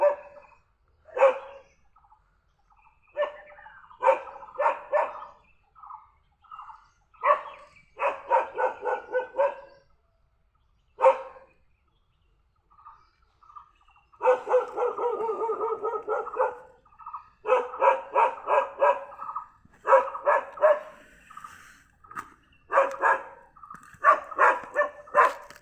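A dog barks in repeated bursts of several sharp, fairly close barks with short quiet gaps between, continuing steadily throughout with no talk.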